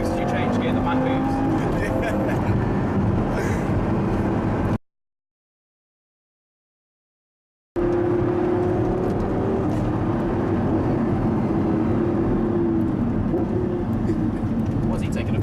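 A Lamborghini LP560-4 Spyder engine in Corsa mode drones loudly and steadily from inside the car, with a short total dropout midway before the engine returns; a voice talks over parts of it.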